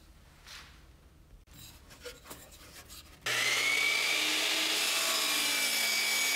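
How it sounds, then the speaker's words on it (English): A chop saw set to a 60-degree angle cuts half-inch thick, four-inch wide poplar, with quiet shop rustling and handling first, then the blade's loud, sustained whine and rasp ripping through the wood nearby. "I set the chop saw to a 60-degree angle and cut some 4-inch wide,"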